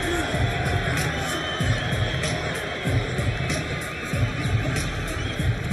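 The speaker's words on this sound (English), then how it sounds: "he gets at first a noisier than expected reception from what has to be assumed to be a heavily pro-De La Hoya crowd" Boxing arena crowd roaring through Shane Mosley's ring entrance for his second fight with Oscar de la Hoya, a dense, sustained cheer with rhythmic surges and whistles throughout.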